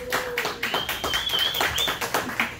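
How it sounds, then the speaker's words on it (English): Scattered applause rises from a small comedy club audience at an open mic night, individual claps distinct and uneven, while a faint whistle-like tone threads through the clapping. "Give yourselves a round of applause for being here."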